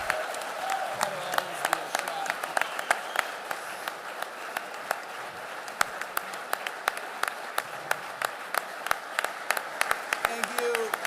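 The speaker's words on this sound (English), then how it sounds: "One more big round of applause for the head coach of Utah football" Crowd applause at an outdoor football practice welcoming Utah football head coach Morgan Scalley: steady, moderately loud clapping from a gathered group, with scattered sharper claps and faint voices underneath.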